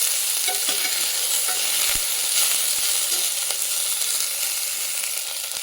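Bitter gourd frying in oil with stirring, a loud, dense, continuous sizzle close up that holds steady for several seconds, with no talking.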